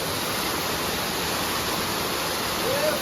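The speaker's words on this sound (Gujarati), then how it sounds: "અહીંયાથી ધોધ પડે છે અહીંયા" A forest waterfall near the Mahakali temple at Saravana pours as a constant, dense rushing hiss, loud and unbroken, with a brief tonal whistle near the end.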